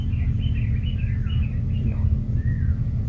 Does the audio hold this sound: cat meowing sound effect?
no